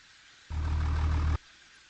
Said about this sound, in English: This truck is really loud, so we'll go ahead and stick with that.